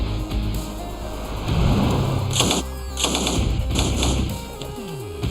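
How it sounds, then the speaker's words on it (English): Sri Lankan Long Range Patrol soldiers in training fire weapons while riding bicycles, a loud, close mix of rapid gunshot bursts and thuds layered over a steady mechanical rumble. "Bicycle එක වෙඩි තබමින් ඉදිරියට යන්න."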